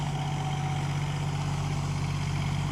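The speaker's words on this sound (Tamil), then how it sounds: "நம்ம டிராக்டர் உழுது" Tractor ploughing a flooded paddy field, a steady, close low engine drone with a constant hum and no breaks.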